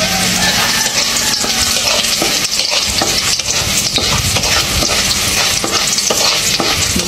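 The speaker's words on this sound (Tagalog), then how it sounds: "Maglagay tayo ng kunting mantika. So first, ginger ilagay natin." Ginger frying in a little cooking oil with a steady, loud sizzle, stirred continuously in the pan for several seconds, the crackle dense and unbroken throughout.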